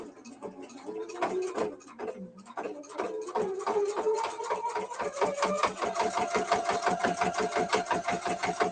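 A sewing machine stitches through nine layers of heavy denim, its needle hammering in a fast, even rhythm that speeds up into a steady close mechanical rattle with no talk.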